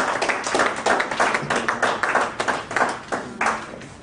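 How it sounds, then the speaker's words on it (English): A small audience claps at an induction and investiture ceremony, with distinct, uneven individual claps forming a loose rhythm close by that tapers off after a few seconds. "let's give her a round of applause"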